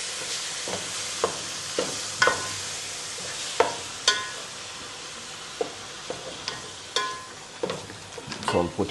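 Spices and food frying in a pan during meal prep, a soft steady sizzle broken by repeated scraping clicks of a utensil stirring against the pan, fairly quiet and close.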